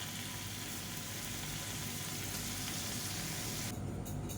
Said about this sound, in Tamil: இப்போ இந்த பன்னீரை நல்லா கோல்டன் கலரில் எல்லா சைடும் வர மாதிரி போட்டு வறுத்து எடுத்துக்கலாம்